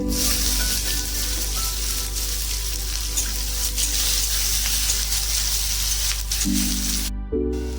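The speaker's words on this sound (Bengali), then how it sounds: "এবার কুচনো পেঁয়াজগুলো দিয়ে দেবো।" Chopped onions sizzle in hot oil with cumin and bay leaf in a pan, a steady broadband hiss throughout, close and fairly loud, with a low background hum and no talking.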